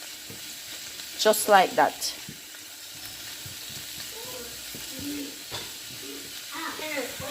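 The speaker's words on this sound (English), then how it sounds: "So we're going to saute everything" Frankfurters and vegetables sautéing in a pan for a Jamaican-style franks omelette, a soft steady sizzle under bursts of speech, with a few scraping stir sounds toward the end.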